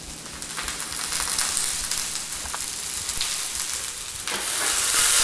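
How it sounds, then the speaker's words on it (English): Trimmed green beans searing in a hot pan, giving a steady close sizzle throughout with occasional tossing rattles, the frying growing louder toward the end, with no talking. "These guys are loving a little toss here."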